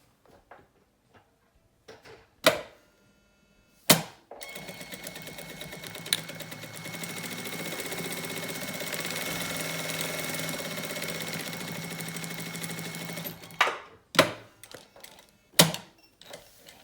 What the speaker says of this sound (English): sew a straight stitch like 3 or 4 times so you can secure it first